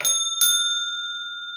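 A bright metallic bell rings twice in quick succession, close and clear, its sustained ringing tone lingering and slowly fading afterward with no talking over it.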